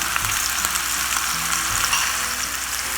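Onion, garlic, bay leaves and whole peppercorns sauté in hot oil for pork adobo, a dense continuous sizzle with light stirring taps, close and loud, no voices.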